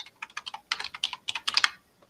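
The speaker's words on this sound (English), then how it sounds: "sorry, I was typing" Fingers type on a computer keyboard nearby, with quick bursts of clicking keystrokes separated by brief pauses and no voices.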